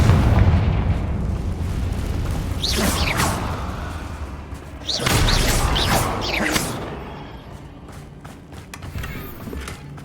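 Confringo fire spell explosions in the video game Hogwarts Legacy, with two bursts of whooshing blasts and booms over a low rumble, fading into quieter ambience.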